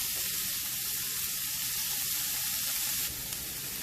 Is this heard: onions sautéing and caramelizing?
yes